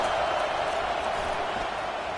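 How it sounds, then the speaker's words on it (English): Roaring college football stadium crowd during an NCAA game, cheering loudly to support the home defense, a dense, sustained wall of noise that fills the whole moment. "Listen to this crowd just shaking the girders of this place"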